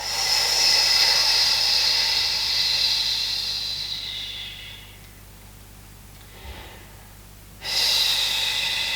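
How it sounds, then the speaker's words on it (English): Long, steady breaths exhaled through the nose and mouth during a gentle pilates warm-up for sensitive backs, a sustained airy hiss that fades, pauses in near silence, then starts again, close and fairly loud. "you inhale again. And exhale."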